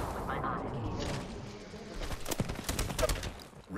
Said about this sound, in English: And there goes a team shooting at him